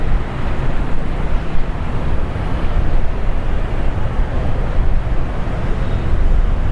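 Loud, steady wind buffeting a DJI Pocket 2 camera microphone on a street walk, a constant low rumbling roar with no other sounds coming through.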